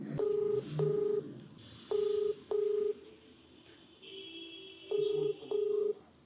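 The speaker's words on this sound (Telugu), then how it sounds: "ఒకసారి కాల్ చేద్దామండి" Telephone keypad tones as a number is dialed: six short, loud beeps in pairs with gaps between, over a faint background hum.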